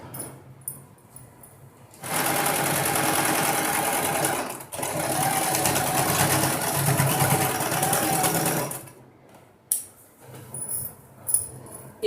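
A sewing machine runs in one sustained burst of rapid stitching while joining the shoulder seams of a nighty, close and steady, with brief fabric handling and small clicks before and after.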